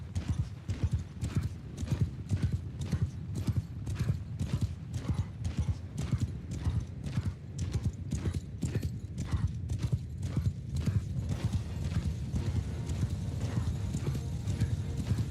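A Bretonnian knight's horse in a video game (Old Realms mod) clip-clops along in a steady, rapid rhythm that runs throughout, with an occasional faint mechanical clatter.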